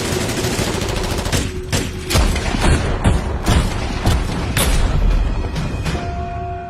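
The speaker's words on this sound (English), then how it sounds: "The artillery opened, the mortars opened, the infantry posts opened." Artillery, mortar and infantry guns fire together in battle, a dense barrage of sharp cracks and heavy booms at irregular intervals, loud and close, with rolling rumble between shots.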